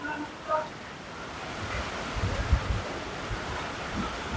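Strong typhoon wind roars steadily outside, with gusty low rumbling against the microphone and a few faint bird chirps early on.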